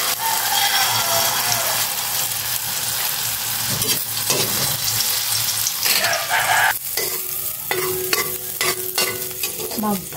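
Egg frying in cooking oil in a pan, a steady close sizzle and crackle throughout, with some clinks and scraping from stirring near the end and no talking.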